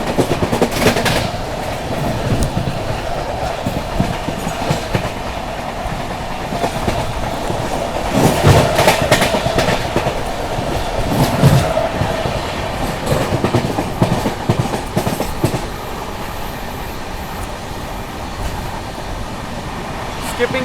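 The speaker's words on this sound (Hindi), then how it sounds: "चलिए दोस्तों आप लोगों को स्किप दिखाते हैं पनकी धाम रेलवे स्टेशन का।" The Poorva Express rushes through Panki Dham station without stopping, heard from on board as a loud, continuous rumble of the rail cars with rapid clickety-clack over the rail joints lasting throughout.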